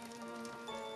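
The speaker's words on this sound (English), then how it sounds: "It's a rainy day." Steady rain pattering on a surface on a gloomy rainy day, a constant fine hiss with light ticking drops, close and even throughout the short stretch, with no voices.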